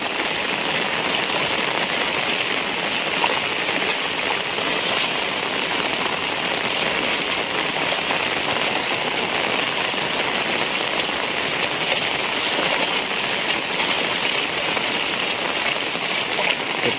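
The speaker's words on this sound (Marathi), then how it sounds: "हा बघा मरणाचा पाऊस लागता।" Heavy monsoon rain pouring down on water-filled fields in a Konkan village, a loud, dense, unbroken roar and patter close all around, steady for the whole stretch with no talk.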